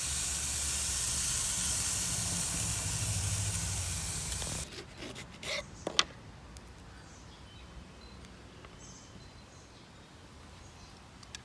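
A steak sizzles on a grill pan with a loud, close, steady hiss that cuts off abruptly, followed by a few soft knocks and near quiet.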